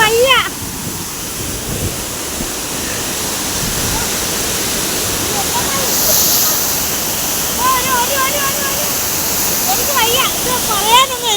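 Steady roaring rush of a waterfall near Thodupuzha, Kerala, a dense continuous wash of falling water close by, with a voice speaking over it at the start and again near the end.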